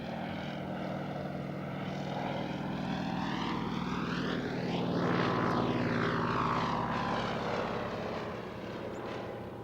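A Fairey Swordfish biplane built by Blackburn Aircraft drones overhead at an airshow, its propeller engine a steady loud roar that swells as it passes closest midway, then slowly recedes.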